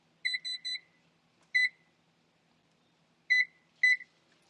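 A kitchen timer set while cooking Korean japchae noodles beeps sharply and close: a triple beep, a single beep, then two more beeps after a pause, with near silence in between.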